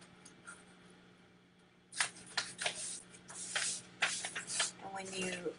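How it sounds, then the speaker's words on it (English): A sheet of paper being folded into four equal parts for a kids' craft, heard as a run of close crinkling, creasing rustles, with a steady low hum underneath. "So I am going to fold mine again."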